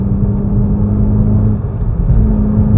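A 2022 Volkswagen Polo GTI gathers speed on a private road, its engine a steady, close, loud rumbling whir inside the cabin with little change in pitch and no talk.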